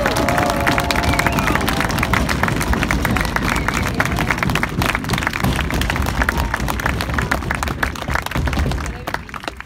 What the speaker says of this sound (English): Very energetic crowd